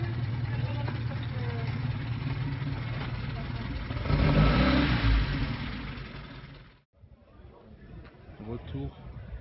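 An Alpine rally car engine revs in a rally parking area, a rough mid-range drone swelling to a louder burst before cutting off, with a voice talking over the engine.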